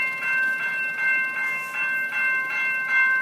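A halted train beginning to move again after a derailment delay, heard from inside a car: rhythmic rolling pulses with a steady tonal ring from the wheels, moderately loud with no talking.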